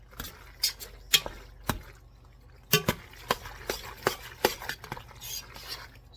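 Spoon stirring macaroni and cheese sauce in a pot over medium-low heat, giving a run of irregular scrapes and clinks against the pot that pause briefly and then pick up again, close and fairly quiet.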